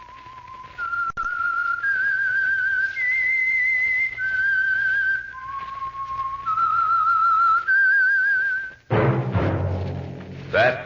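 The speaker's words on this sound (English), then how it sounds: "That whistle." A clear, melodic whistled tune, the theme of the old-time radio drama The Whistler, carries on for several seconds, followed by a burst of louder, noisy sound near the end.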